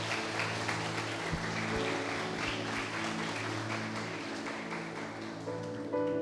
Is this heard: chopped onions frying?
no